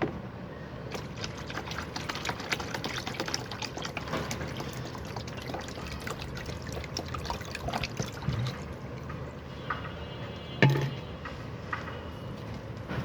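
Rice and lentil washing water being poured onto plants, a steady liquid trickle and splash running throughout at close range, with occasional drips and a brief louder splash near the end.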